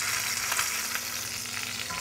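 Bacon stuck in an oily frying pan gives off a steady, bright hiss and crackle, close up and continuous with no voices over it.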